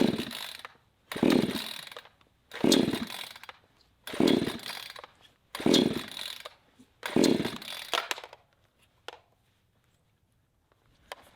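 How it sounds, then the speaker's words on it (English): Repeated pulls on the starter rope of a cheap chainsaw fitted with a primer bulb and choke, six rasping whirring bursts about a second apart, close and fairly loud, then a couple of faint clicks and near silence. "So I just pulled this rope about 30 times"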